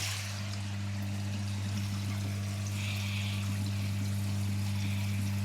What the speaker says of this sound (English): a good old back flush, which means it's emptying that chamber, this chamber here now as well